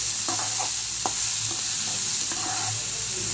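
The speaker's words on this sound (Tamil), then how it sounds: "அதையும் போட்டு நல்லா கோல்டன் ஃப்ரை வர வரையும் வதக்கி எடுத்துக்கலாம்" Onions frying in hot oil toward golden brown for a cauliflower gravy, a dense continuous sizzle with a few soft spatula stirs and taps, close and steady throughout.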